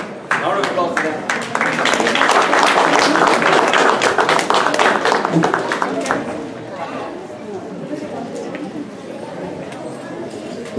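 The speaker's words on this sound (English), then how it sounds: "Round of applause for them." An audience at an Indo Canadian Club Republic Day celebration claps in a lively burst of individual, fairly close hand claps that thins out after about six seconds into murmuring chatter.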